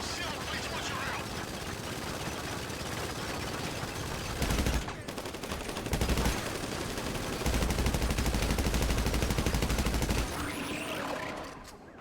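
Heavy automatic gunfire in the video game GTA Online, dense sustained bursts with brief pauses, loud and close, while a voice talks over it now and then.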